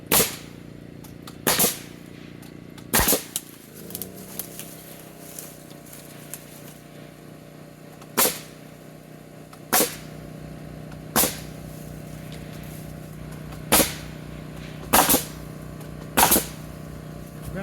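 A nail gun drives nails into the outside-edge joists while a wooden deck is framed, about a dozen sharp, loud cracks spaced irregularly a second or two apart over a low background hum.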